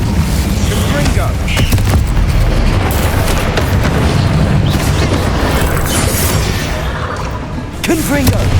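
Confringo explosive spells cast in Hogwarts Legacy, a dense run of booming blasts and crackling bursts, loud and close, with game voices mixed in.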